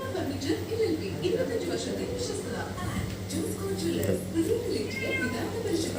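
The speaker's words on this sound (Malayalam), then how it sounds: "പൂച്ച" A cat meows in a home setting, a few soft, wavering cries heard under a woman's ongoing conversational speech.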